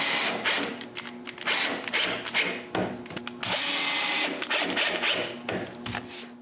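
A power drill drives screws into the bottom of a pine cabinet in repeated whirring bursts, each screw ending in a straining buzz with a longer sustained run near the middle, close and loud.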